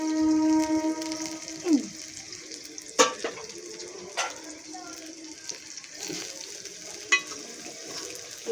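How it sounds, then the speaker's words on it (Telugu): Onions and green chillies fry in a pan for a prawn and gongura curry, giving a soft sizzle broken by sharp clinks and scrapes of a spoon stirring, with a brief tonal whine at the start. "బాగా వేగాలి, ఎర్రగా వేగాలి ఉల్లిపాయలు."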